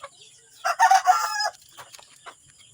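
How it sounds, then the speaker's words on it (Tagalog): A Kabir breed rooster crows once, a short, moderately loud call in the open, followed by faint background clucks and rustle. "ang gaganda ng manok na kabir"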